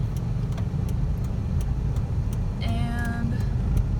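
A car creeps forward slowly on a driving school course in Taiwan, its engine a low steady hum, with a brief chime of blinker or dashboard tones partway through.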